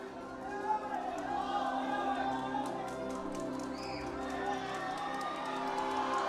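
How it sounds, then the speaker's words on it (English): Stadium crowd at the 2025 IFCPF Asia-Oceania Cup final between Indonesia and Iran, cheering and chattering steadily as players are welcomed onto the pitch, with whistles and shouts over a continuous roar. "Maybe the biggest crowd that these players have played in front of."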